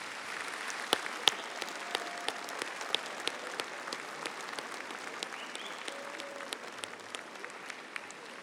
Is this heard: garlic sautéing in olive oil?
no